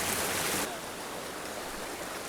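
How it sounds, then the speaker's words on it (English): Creek water rushes down a small cascade in winter, a steady broadband hiss that is louder at first and then settles to a constant nearby flow, with no talk. "we got another cascade coming up"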